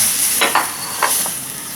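Glutinous rice for biko is stirred with coconut milk and brown sugar in a pan, giving a dense wet hiss with a few soft sweeping strokes close up.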